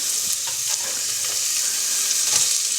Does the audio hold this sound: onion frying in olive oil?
yes